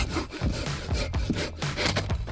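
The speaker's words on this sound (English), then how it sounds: "I find a fallen tree and saw two thick logs with a hand saw." A hand saw cuts a thick log from a fallen tree in a winter forest, with close, rhythmic rasping back-and-forth strokes, about five in quick succession.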